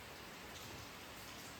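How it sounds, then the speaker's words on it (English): Rain drums on the roof of a metal building used as a workshop, a dense, even wash of patter with no breaks and no voices. "When it rains, it sounds like we're getting a heck of a storm, which this time we did get a pretty good rain."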